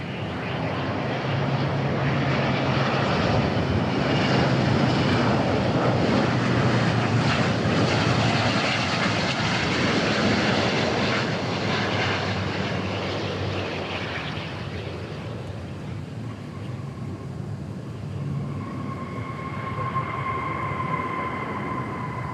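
An Air France airliner passes at DFW Airport, a loud, broad jet engine roar that holds steady for about fifteen seconds and then fades as the plane moves off, with a faint whine lingering at the end.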